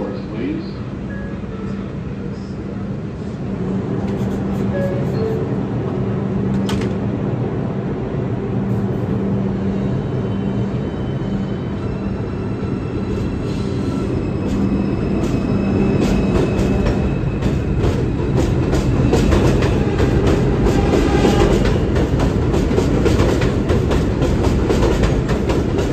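A subway train rumbles and clatters along the elevated IRT White Plains Road Line track at Burke Avenue, the roar building steadily louder, with voices and an announcement faintly over the noise.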